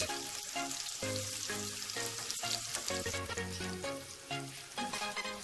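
Ground beef sizzles steadily in hot oil in a pan, a continuous close crackle with occasional scraping from stirring.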